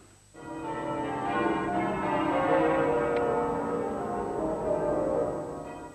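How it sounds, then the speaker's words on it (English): Dense, ringing church bells at Southwark overlap in a continuous wash, muffled, tolling steadily for several seconds with no voices. "At Southwark, the bells were muffled as a mark of respect"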